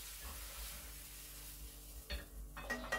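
Banana and apple slices frying in a pan with a light sizzle, joined near the end by a few sharp clinks and scrapes of a utensil against the pan.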